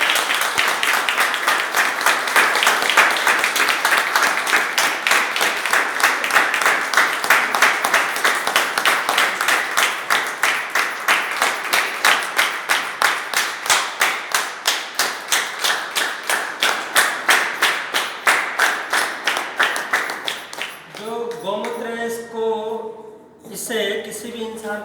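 Loud, sustained audience applause with dense rapid clapping for about twenty seconds, ending abruptly as a voice begins speaking.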